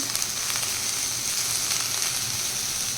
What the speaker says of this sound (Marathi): टॅमॅटो पण आपल्याला ह्याच्यामध्ये छान त्याचा कच्चेपणा जाईपर्यंत फ्राय करून घ्यायचे